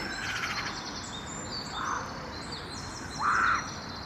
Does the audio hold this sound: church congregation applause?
no